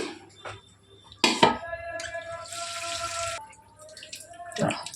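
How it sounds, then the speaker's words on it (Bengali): Cauliflower florets are washed in a kitchen sink, with splashing, a running tap and handled produce knocking against a bowl in bursts, close and moderately loud. "চলো এগুলো একটু ধুয়ে নেই"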